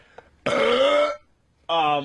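Two drawn-out, croaky burps with a short pause between them, loud and close, with no talking around them.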